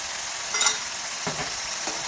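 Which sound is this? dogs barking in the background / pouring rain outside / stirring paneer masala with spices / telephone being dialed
stirring paneer masala with spices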